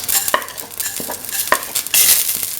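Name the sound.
fenugreek seeds popping and sizzling in a pan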